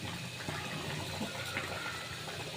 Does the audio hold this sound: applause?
no